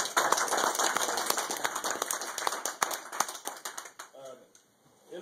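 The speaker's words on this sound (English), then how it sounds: "Let's give him a round of applause, folks." A small group claps in a brief round of applause, sharp individual claps close by over a background hum, thinning out and giving way to a voice near the end.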